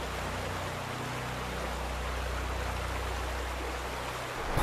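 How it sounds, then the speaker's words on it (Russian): Thousands of tons of floodwater rush down a river channel in a continuous, loud, dense roar with a deep rumble underneath, unbroken throughout and with no voices. "Достаточно просто взглянуть на то, как выглядит тысячи тонн воды, несущейся с бешеным ревом."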